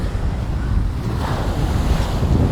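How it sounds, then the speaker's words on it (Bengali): Sea waves surge and crash against the embankment at Bakkhali beach, a loud continuous wash of surf with gusty wind buffeting the microphone, close and unbroken with no voices. "আর এই যে জল এসে বাড়ি মারছে।"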